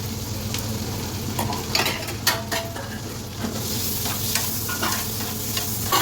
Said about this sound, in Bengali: ক্যাপসিকামটা আমার ভাজা হয়ে গেছে।